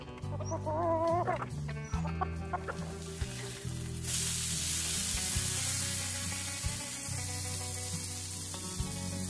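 Several chickens cluck and call in a coop, in close, overlapping bursts, while a steady hiss like frying or rustling comes in about halfway through and carries on to the end.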